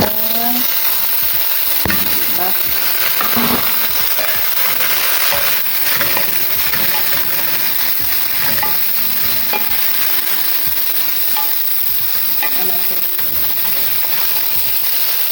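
Crushed garlic and onion powder fry in a pan alongside dried anchovies, a loud, continuous close sizzle punctuated by frequent knocking, scraping stirs of a utensil against the pan.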